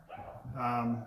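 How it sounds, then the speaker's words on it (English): Dogs bark in the background at a house while a delivery arrives at the door, a short burst of barking under a voice. "If you hear the dogs in the background, that's Amazon delivering another great package to the door."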